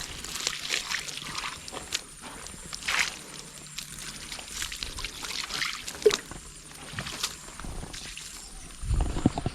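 Water from a drum is poured onto a plant, a faint, intermittent trickle and splash against quiet outdoor background noise.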